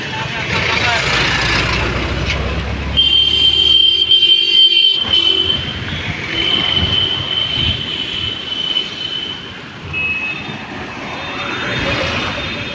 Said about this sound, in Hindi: तो वो ट्राम जा रहा था